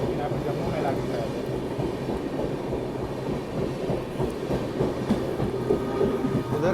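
Jammu Mail, an Indian passenger train, rumbling past as a continuous heavy roar with a faint rhythmic clatter of wheels, heard close up from aboard another moving train.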